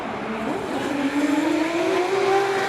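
A drift car in D1NZ Pro Championship qualifying at Wellington powers out of a drift, its engine note climbing steadily with tire squeal, heard from a distance under crowd ambience.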